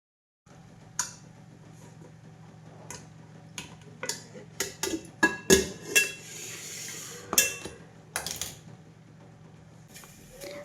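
Fresh butter being churned by hand in a village kitchen to make ghee: a steady low hum under a series of sharp knocking and clinking strikes, irregular and close, with no talking.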